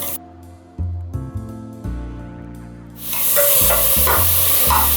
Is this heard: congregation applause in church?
no